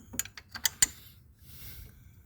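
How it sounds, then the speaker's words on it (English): A 15mm flank drive wrench turns the serpentine belt tensioner on a 2002 Pontiac Grand Prix 3800, giving several short, close metallic clicks and ratchet snaps in quick succession, followed by a faint mechanical hiss. "I don't use a serpentine tool. I just use a 15mm flank drive."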